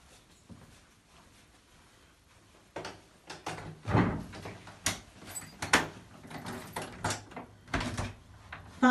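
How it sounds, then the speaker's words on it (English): An old church door at a Moravian church is unlocked with a key and pushed open, with faint clicks followed by knocks, creaks and rattling handling sounds close by. "You're opening the door"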